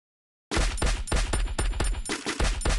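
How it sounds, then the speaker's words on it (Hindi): Automatic gunfire in the Garena Free Fire video game. After a brief silence, a loud, rapid string of evenly spaced shots rattles on without pause, with no talking over it. "एक ऊपर से देख गोली चला रहा"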